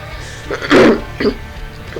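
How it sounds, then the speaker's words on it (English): A single sharp, throaty cough bursts out close by, followed by a couple of smaller throat sounds. "I used to not edit out the coughs"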